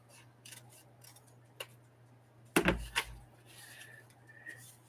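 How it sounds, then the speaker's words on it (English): Scissors snip through a thick homemade make-ahead item at a table indoors, giving two or three sharp close cuts around the middle, with a faint click earlier and a steady low hum beneath. "And that gets trimmed with scissors."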